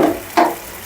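Turmeric, chilli powder and other spices sauté with water in a pan, giving a brief, close hiss and sizzle that flares once and then settles into a faint simmer.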